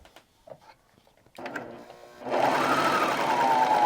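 A serger sewing machine stitches denim, starting with a few brief handling taps before the motor kicks in and runs as a fast, steady whirring buzz close by.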